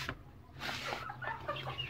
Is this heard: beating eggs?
no